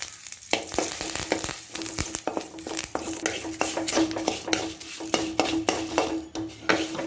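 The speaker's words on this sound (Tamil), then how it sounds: "இதிலே கருவேப்பிலையை பொரிச்சுக்கலாம்." Curry leaves spluttering in hot oil, crackling pops and stirring scrapes in an irregular busy stream for several seconds, with no voices.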